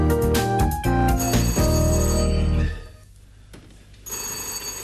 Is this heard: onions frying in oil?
no